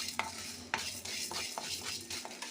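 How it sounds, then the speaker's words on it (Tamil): Toor dal dry-roasts in a pan, with a quiet hiss under frequent dry scraping and rattling strokes of a spoon stirring the lentils against the metal. "இந்த துவரப்பருப்பு நல்லா வறுத்துப்போம்."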